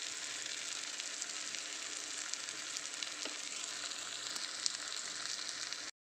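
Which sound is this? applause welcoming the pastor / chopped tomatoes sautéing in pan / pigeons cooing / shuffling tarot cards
chopped tomatoes sautéing in pan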